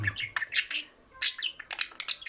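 Pet diamond birds in a cage, with a lively run of bright chirps and short squawks in quick irregular bursts, close and fairly loud, with no voices.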